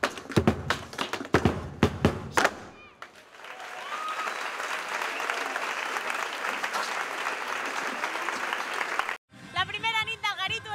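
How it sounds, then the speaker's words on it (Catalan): A street crowd at a town festival in Cardedeu applauds in a steady, dense wash of clapping for several seconds, preceded by sharp knocks and followed by voices. "la primera nit també va recollir els aplaudiments del carrer"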